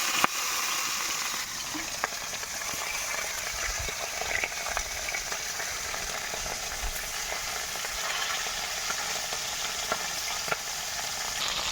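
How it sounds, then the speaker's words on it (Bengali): Fish pieces fry in hot oil with turmeric powder, a steady loud sizzle and crackle close up, with occasional pops and light stirring scrapes throughout and no talk. "তেল গরম হয়ে গেছে, মাছগুলো দিয়ে দেব।"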